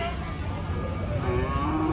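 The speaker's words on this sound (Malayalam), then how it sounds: "രണ്ട് പശുക്കുട്ടികൾ" A calf at a Pollachi cattle market gives a low, rising moo near the end, heard over steady crowd and market din.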